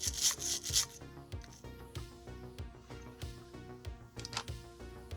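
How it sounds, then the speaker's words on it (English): Game Boy contacts are cleaned with isopropyl alcohol in quick, rhythmic scrubbing and rubbing strokes, close up and fairly quiet, with no talk. "So a little bit of isopropyl alcohol, cleaning out the contacts and everything is a good time to do that."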